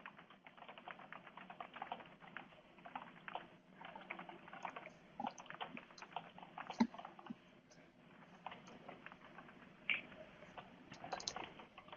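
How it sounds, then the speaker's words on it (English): Steady keyboard typing during a webinar, a rapid patter of soft key clicks continuing throughout at moderate distance, with no voices. "And I hear typing, so that's a good sign."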